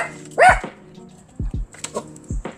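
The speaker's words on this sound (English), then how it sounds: "He's like barking like crazy." A dog barks loudly and close by, one sharp bark followed by a few shorter yips and woofs, with no talking.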